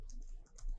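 Quick keystrokes on a computer keyboard, a few soft clicks in under a second, faint and close with no voices.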